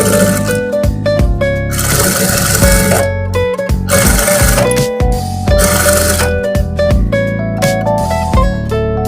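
A sewing machine stitches a princess-cut blouse in rapid bursts of mechanical whirring and clatter, broken by short pauses as the fabric is moved, loud and close with no talking.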